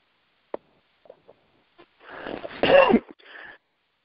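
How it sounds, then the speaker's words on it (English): A few quiet throat clicks, then a harsh raspy cough burst with a couple of short hacking follow-ups, close and alone in silence. "please excuse my cough"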